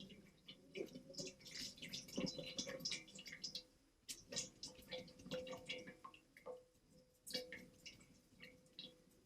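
Drained cooked dog food for a pet with pancreatitis, pouring from a pot in quiet, uneven bursts of dripping and trickling water with soft wet splashes.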